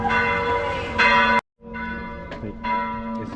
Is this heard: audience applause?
no